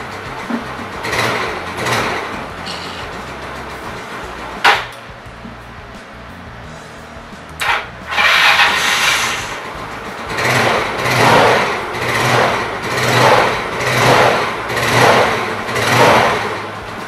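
A Mio Sporty motorcycle engine starts and runs nearby, a buzzing, light small-engine sound with sharp clicks and bursts, then rising and falling in repeated rev-like pulses toward the end.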